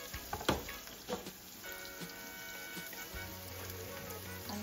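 Onions with soy sauce sizzle quietly in a pan while cooking for a steak sandwich, a soft continuous crackle broken by a few light ticks and clinks.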